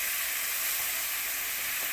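Stock poured into a hot pan with veal, giving a loud, steady hissing sizzle that fills the space without pause.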